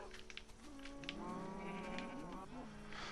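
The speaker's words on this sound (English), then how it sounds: "How did that sheep get out of there?" A Minecraft sheep bleats in a few wavering, mid-pitched calls over a steady hiss, with a voice speaking briefly beneath it.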